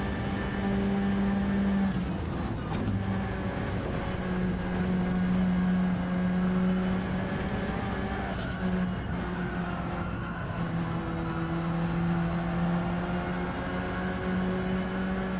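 A Gr.4 race car engine in Gran Turismo 7 is held at steady throttle, a continuous loud buzzing whine with tones that shift slightly in pitch as gears and speed change, with a few brief scrapes and clicks.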